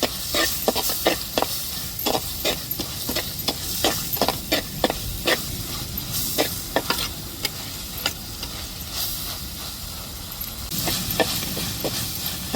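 Ginger and garlic sauté in a pan for a country chicken stir-fry, with a soft steady sizzle broken by frequent sharp scrapes and taps of stirring, no voices.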